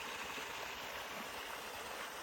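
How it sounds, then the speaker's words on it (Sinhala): Water splashing and pouring steadily into a village stream in rural Sri Lanka, a continuous broadband rush at close range with no voices. "මේ මෙතන වතුර වැටෙන සද්දෙන්"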